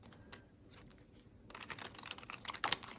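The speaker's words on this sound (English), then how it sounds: "let's go ahead and get a few more shuffles in" Tarot cards being shuffled close up, with soft riffling and crinkling that turn into a denser, louder burst of rapid card flutter in the second half and end in a sharp snap.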